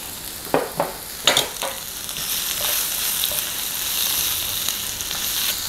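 Spinach with Parmesan cheese sizzles in a pan, opening with a few clattering stirs before a steady, moderately loud frying hiss carries on alone.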